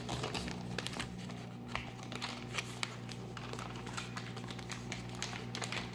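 Paper is folded and creased into a paper airplane, giving soft crinkles and small sharp clicks over a steady low hum, close and quiet, with no talking.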